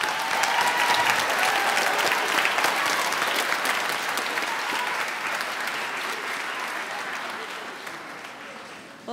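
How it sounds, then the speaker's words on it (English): Sustained applause from a crowd at a school moving-up ceremony, honoring a graduating class; dense, steady clapping that fills the whole stretch, tapering slightly toward the end. "Let's give a round of applause to our class."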